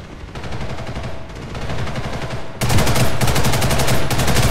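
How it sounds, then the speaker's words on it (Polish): Gunfire in the shooter game Ghost in the Shell: First Assault: rapid automatic bursts crackle steadily and loudly, then grow even louder and denser partway through and keep going to the end. "dwa strzały i padam"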